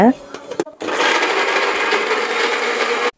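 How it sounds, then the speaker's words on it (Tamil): A mixer grinder grinding onion, tomato and coconut whirs loudly and steadily for a couple of seconds after a brief clatter, then cuts off abruptly. "மிக்ஸி ஜாரில் மாற்றி அரைச்சிக்கோங்க"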